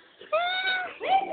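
A cat meows twice, a long clear tonal meow followed by a shorter rising one, close and fairly loud, with no talk over it.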